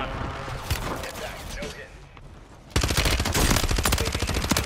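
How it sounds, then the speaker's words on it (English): Gunfire from Warzone 3 starts as scattered shots, then turns into a loud, steady automatic burst that dominates the second half, with voices talking throughout. "He's shooting at you."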